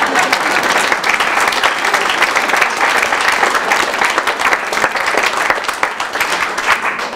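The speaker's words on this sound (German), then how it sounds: "Ihr könnt euch klatschen, so." Sustained, loud applause from an audience at a German-language music evening, dense steady clapping filling the whole stretch without a break.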